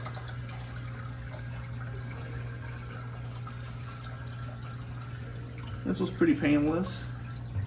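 A gallon of water poured into an aquarium, a quiet continuous splashing and trickle under a steady hum, with someone speaking briefly near the end.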